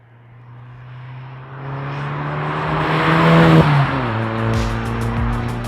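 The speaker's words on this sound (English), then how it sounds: "the turbo noises on my car have always been pretty vocal" A turbocharged car fitted with a GFB DV+ diverter valve, its engine note and turbo whine rising steadily under acceleration, loud and close, with a sharp release around the shift.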